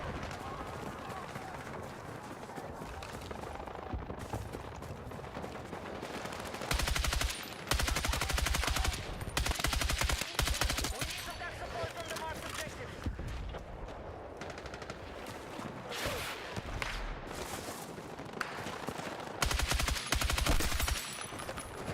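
Rapid bursts of automatic gunfire from the B36 rifle in the video game Battlefield 6 sound close and loud, coming in repeated volleys while players talk over the action.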